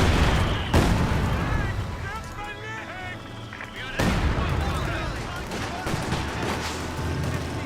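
Three mortars firing in the video game Company of Heroes 2, with two heavy booming launches several seconds apart and scattered battle noise, under ongoing talk.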